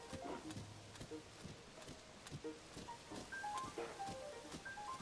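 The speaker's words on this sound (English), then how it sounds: "Oh, oh there, horsey." A horse trots across open ground in The Legend of Zelda: Tears of the Kingdom with a faint, steady clip-clop of hooves. Soft game tones and chimes sound over it.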